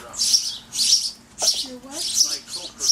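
Hungry baby birds being fed by an adult chirp loudly in repeated shrill bursts, close by, while a person talks briefly between the calls.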